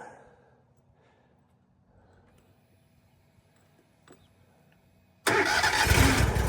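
A zero-turn lawn mower engine cranks and catches abruptly after a quiet stretch, then runs loud and rough for the final second.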